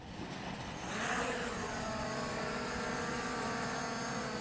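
An MJX Bugs 16 Pro quadcopter drone lifting off, its motors spinning up into a steady, loud, buzzing whine that holds even and continuous at close range, with no talk.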